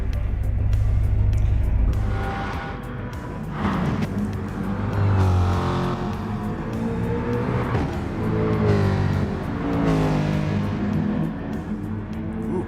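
Race cars in GT Sport lapping Bathurst, including a Porsche, engines swelling and fading as they pass and accelerate, with rising and falling revs and gear changes over a continuous loud drone.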